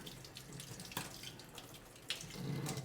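Tap water runs steadily over a hot, freshly steamed hard-boiled egg being peeled under the faucet, a soft continuous splash with a few brief clicks and no talk.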